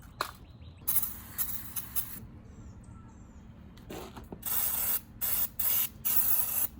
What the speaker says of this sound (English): Just a little brake cleaner.